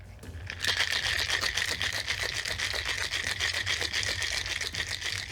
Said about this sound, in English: And then we got to shake it up. Get it good and cold, frothy, get that cream working.